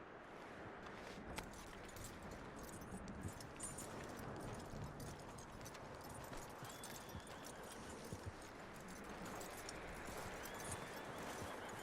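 Horse hooves clip-clop steadily in the Red Dead Redemption 2 video game, a continuous walking rhythm, moderately close and fairly quiet, with faint jingling of tack alongside.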